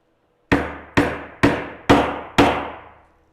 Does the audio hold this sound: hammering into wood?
yes